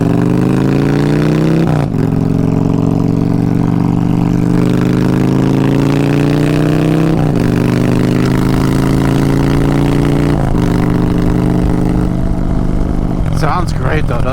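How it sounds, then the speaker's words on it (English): A 2022 Honda Fury V-twin motorcycle engine is revved repeatedly, loud and close, each throttle blip rising in pitch then dropping back to a lumpy idle, with a final quick rev near the end. "You gotta wake the engine up a little bit on these V-twins."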